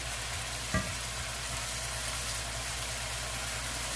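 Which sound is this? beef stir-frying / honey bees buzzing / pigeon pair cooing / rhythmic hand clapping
beef stir-frying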